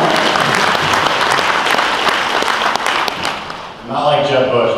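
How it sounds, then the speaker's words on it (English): A crowd breaks into loud, dense applause that holds steady for several seconds, then fades and thins out near the end as a voice begins to come through. "Can we give an applause for no more shutdowns, please?"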